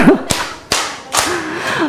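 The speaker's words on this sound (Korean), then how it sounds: "박수 세 번 시작" Children in a church nursery class clap three times, sharp separate claps spaced about half a second apart, with an adult voice sounding briefly between them.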